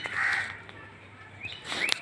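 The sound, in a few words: birds being fed bhujia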